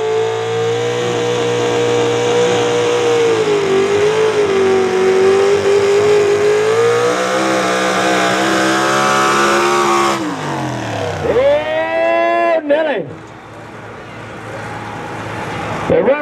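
A heavy pulling truck's big-block engine roars loudly and steadily at a truck and tractor pull, its pitch shifting as it strains, then revs and drops away near the end, with voices over it.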